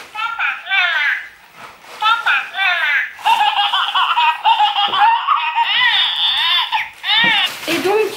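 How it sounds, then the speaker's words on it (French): A talking baby doll toy lets out a run of high, giggly baby laughs and babbling coos, loud and close, with short pauses between bursts. "Une poupée qui parle."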